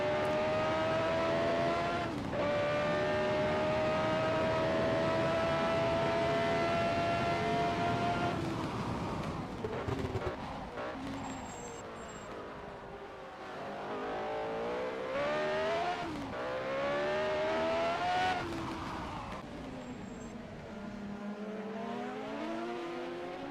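A 1987 CART Indy race car roars through a street circuit at Molson Indy Toronto, its engine note sweeping up and down through gear changes, loud and continuous with shifting pitch as it accelerates out of turns.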